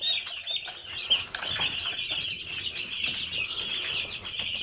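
Chickens on a chicken farm cluck and chatter continuously in a close, dense flock, steady bright clucking with a few sharper calls, and nobody speaks.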